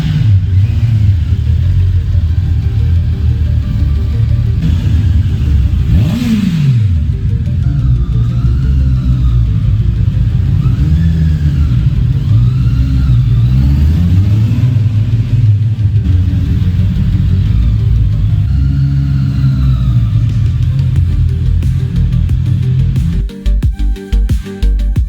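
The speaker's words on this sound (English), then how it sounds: "That inline 4 sound, even cold, is just so satisfying." A Honda CBR motorcycle with an inline-four engine, still cold, rides at low speed through tight turns, its loud, steady mid-pitched drone and rumble continuous and up close, with small rises in revs throughout.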